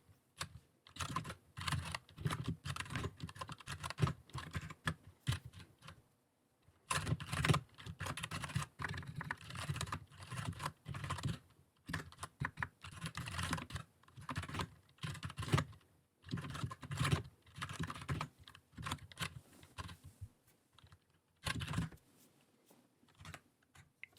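Bursts of rapid computer keyboard typing while entering code, close and distinct, broken by short pauses between runs of keystrokes.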